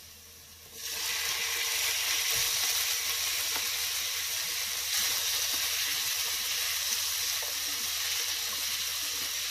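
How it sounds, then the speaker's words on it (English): Tomatoes sizzle loudly in a pan with sautéed onion, cashews and garlic, a steady bright frying hiss that jumps up after a brief quiet start and holds evenly throughout, with no talking. "तो अच्छे से सौते करना है हमको।"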